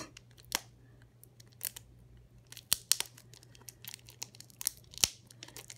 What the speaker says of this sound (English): If I can get all this tape off.